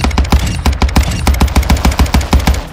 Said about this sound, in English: you're gonna put it on single fire and watch what it does